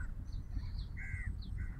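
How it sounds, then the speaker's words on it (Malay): Crows caw several times in the distance at an outdoor RC plane flying field. The calls are faint and scattered over a steady low rumble of wind or background noise. "Oh, nampak gagak dah datang."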